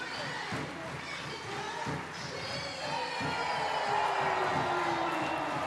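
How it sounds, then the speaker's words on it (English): A rugby crowd at Sandy Park in Exeter roars during a Premiership Women's Rugby match between Exeter Chiefs and Leicester Tigers, a broad, distant wash of cheering that builds steadily louder, with a few dull thuds beneath it. "Big roar from the crowd here at Sandy Park."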